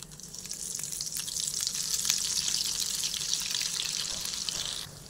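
Shepu vadi, dill fritter slices, drop into reheated cooking oil and fry with a loud, continuous bubbling sizzle that swells quickly and holds steady before easing off at the end.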